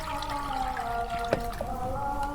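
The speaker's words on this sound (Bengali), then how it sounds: "আমি পানি দিয়ে দিই কড়াইয়ের মধ্যে।" Water poured into a kadai on a lit stove while preparing home-style pasta noodles, heard as a steady trickling, splashing flow with a brief louder splash midway.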